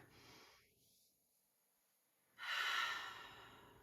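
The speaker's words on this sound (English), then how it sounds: "So big, deep breath, deep breathing right there." A person breathes deeply, with a soft, airy inhale followed by a louder, longer exhale through the mouth, close and alone.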